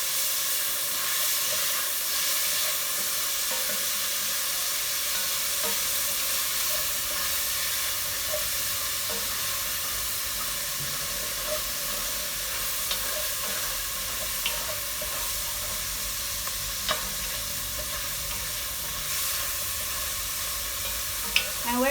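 Bacon renders and sautés in a pot on the stove, producing a steady, even hiss and crackle that runs unbroken throughout, with occasional faint pops and clicks.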